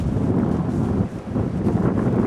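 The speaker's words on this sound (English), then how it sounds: "Pretty windy out today. I don't know if you're getting a lot of that noise on here." Heavy wind buffets the microphone outdoors by a field in a continuous low rumble, gusting and dipping briefly, with no voices.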